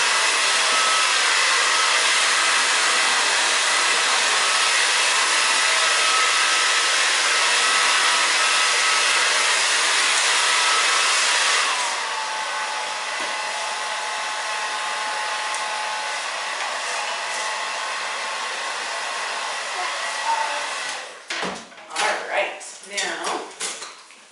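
A hair dryer blows on a girl's wet, layered bob during a haircut, a loud steady roar that drops to a lower, softer setting about halfway through, then cuts off near the end amid a few brief handling knocks.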